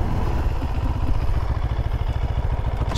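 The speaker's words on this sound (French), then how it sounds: "Superbe freinage, c'est du Brembo, on le sent." A CFMOTO 700CL-X motorcycle with Brembo brakes under hard combined braking, its engine note steady and close with a low pulsing throb that carries on throughout.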